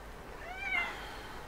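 A cat gives a single soft, close meow, rising and then falling, over quiet room tone with no talking.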